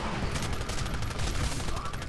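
Sustained, dense gunfire in the Titanfall game on Xbox One, a continuous loud wash of rapid shots with no clear gaps between them.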